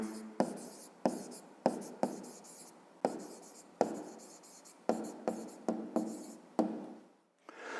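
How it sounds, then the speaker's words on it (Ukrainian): Pen or pencil writing an answer by hand on paper, a run of about a dozen short scratchy strokes in an uneven rhythm, close and fairly quiet, no talk. "а тепер записуємо відповідь"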